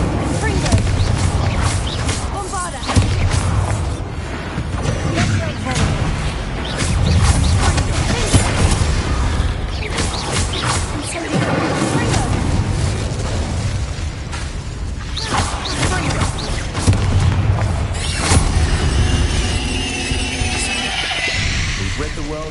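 A Bombarda blasting spell goes off in Hogwarts Legacy, its booming bursts and crashes recurring through dense, loud game action, with music and effects layered throughout.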